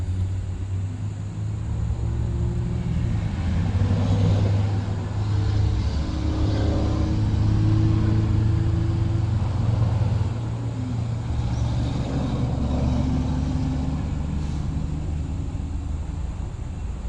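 Road traffic of cars and tractor-trailers rolls past outside a parked RV, a steady low rumbling drone that swells as vehicles go by and eases off, with no talk.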